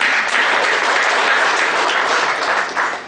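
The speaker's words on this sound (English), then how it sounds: "A round of applause." Audience applause at a labour law seminar inauguration, steady dense clapping filling the hall for about three seconds, loud and continuous with no voices over it.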